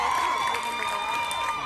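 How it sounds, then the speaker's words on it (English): A cruise ship game show audience cheers and whoops for a team captain, a steady loud crowd roar filling the room with shouting voices throughout. "cheer on your team captain"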